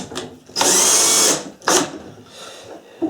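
A power drill drives screws into a toy excavator during assembly, with two bursts of whirring, the first about 0.7 seconds long and the second shorter, both loud and close, and quiet handling in between.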